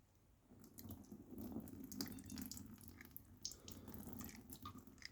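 Water poured over a colour-changing Lightning McQueen toy car, splashing onto a hard surface, with gurgles and drips, fairly close and quiet, no voices.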